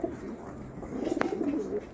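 Pigeons coo at a Howrah pigeon sale of high-flying breeds such as Abluk, Kalanka and Kaldoma, a low murmuring coo that swells in the second half, with a brief sharp sound partway through.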